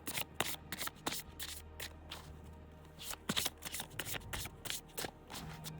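A deck of cards being shuffled by hand close up, with repeated soft riffles and slaps in uneven bursts, quiet and intimate with no talking.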